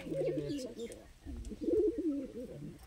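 Fancy pigeons coo in low, rolling throaty phrases, two close bursts separated by a short pause, with faint background noise around them.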